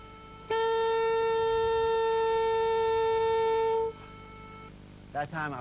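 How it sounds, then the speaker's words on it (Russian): A sustained saxophone note, slightly out of tune because the mouthpiece position is off, held steadily for about three seconds, followed by a short snatch of speech. "Вы слышите, что инструмент не строит."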